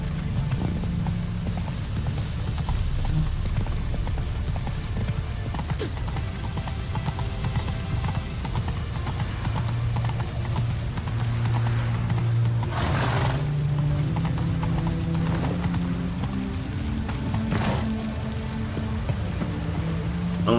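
Horse hooves clip-clop steadily through the whole stretch in The Witcher 3, riding at a brisk pace over a continuous background bed with a few louder thuds and no voices.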